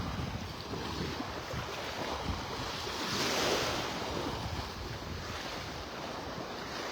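Ocean surf and wind at Vanderbilt Beach in North Naples, Florida, a steady broad wash of waves with gusty wind noise that swells slightly midway.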